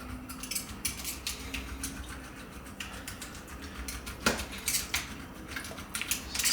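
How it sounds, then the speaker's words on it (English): Metal forks repeatedly stabbing the skin of a raw pork belly, a quick run of close, sharp ticking pricks and clinks at an uneven rhythm with no speech. "We're gonna stab the pork belly skin."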